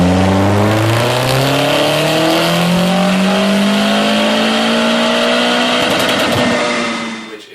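A tuned Mitsubishi Lancer Ralliart with bolt-ons, strapped to a dyno, revs hard and climbs steadily through a loud, continuous pull, its engine pitch rising for several seconds before cutting off.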